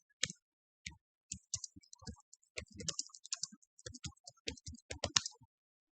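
Computer mouse clicks come in an irregular run of crisp, close taps, isolated at first and then in quick clusters, against a silent background.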